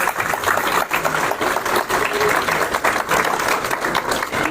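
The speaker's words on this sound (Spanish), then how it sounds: "Por favor, démosle un fuerte aplauso a nuestros invitados." A conference audience gives its guests steady, dense applause, with continuous clapping throughout.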